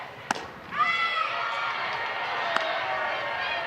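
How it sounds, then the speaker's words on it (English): Softball crowd in the stands voicing displeasure at a home-plate umpire's call, a broad swell of booing and shouting that rises abruptly and holds steady, with a couple of sharp thumps. "Crowd does not agree with Eric Hawthorne behind home plate"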